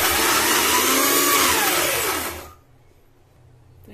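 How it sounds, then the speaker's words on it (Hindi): A mixer grinder whirs loudly and steadily as it blends tomatoes and onions into a smooth paste, its motor pitch rising and bending before it cuts off abruptly, leaving near silence. "जार भर गया है तो हम इसे दो बैच में पीस लेंगे और अच्छा सा स्मूथ पेस्ट बना लेंगे"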